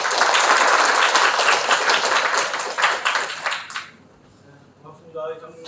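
A crowd at a political party labour committee launch event applauds a speaker taking the podium, with loud dense clapping that fades after a few seconds, leaving a quiet room and a voice starting to speak.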